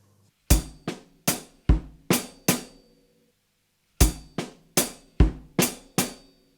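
Drum kit groove in seven with an added note, two phrases of six sharp, decaying hits each separated by about a second of silence, close and clean with no talk.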